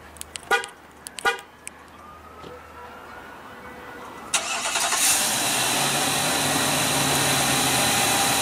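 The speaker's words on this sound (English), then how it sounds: "Pretty easy to do your remote engine start." A couple of key fob clicks and beeps, then a 2015 Infiniti QX80 SUV engine remote-starts, cranks and settles into a steady idle rumble.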